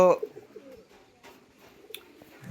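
Pigeon cooing at a loft, a soft throaty coo near the start followed by quieter murmuring calls and faint rustling, with brief brighter sounds toward the end.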